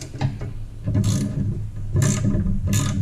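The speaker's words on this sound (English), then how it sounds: "you can use this ratcheting wrench or any wrench, socket wrench, whatever you want to use on it." A ratcheting wrench turning bolts on a lawn mower deck while fitting a Spartan manual shield, with close, loud bursts of rapid ratchet clicks repeated several times with brief pauses between strokes.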